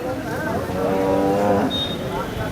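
An ox at a busy cattle market lets out one loud, drawn-out moo lasting about a second, close to the listener, over a steady hum of crowd noise.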